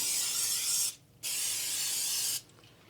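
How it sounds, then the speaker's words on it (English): Cooking spray hisses onto a waffle iron in two bursts, a close, loud aerosol spray of about a second each separated by a brief pause. "so we can spray our waffle iron."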